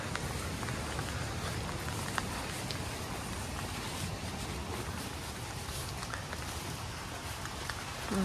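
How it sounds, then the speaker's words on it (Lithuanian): Steady rain falling in the Dolomites mountains of Italy during a bikepacking trip, a dense, even patter close by that continues without pause and without speech. "Sulaukiam lietaus."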